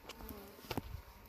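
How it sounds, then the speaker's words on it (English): A yellow jacket buzzes faintly near a beekeeper's veil beside a hive, a brief thin drone with a couple of soft bumps as it lands close by. "I just had a yellow jacket land on my veil here."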